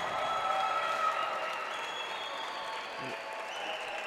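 A crowd applauds at the end of the 2019 Open Bolivia pro singles racquetball final, with a thick, sustained wash of clapping that starts loud and then eases a little while staying strong to the end.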